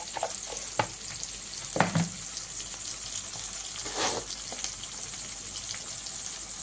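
Garlic paste frying in a pan with dried fish (shutki) and vegetables, a soft continuous sizzle with a few brief stirring scrapes and clinks, quiet and close, no voices.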